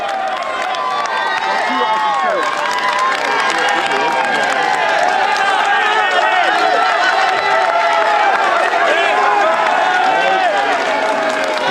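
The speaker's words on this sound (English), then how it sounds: "when you rode in the Tour de France and the crowd cheers like this" A dense roadside crowd at the Tour de France cheers and shouts continuously as riders pass, a loud sustained roar of overlapping voices with whoops and scattered clapping throughout.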